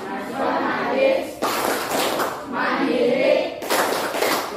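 Children clap together in a school class chant, bursts of broadband clapping in two or three rhythmic phrases with steady crowd noise between them.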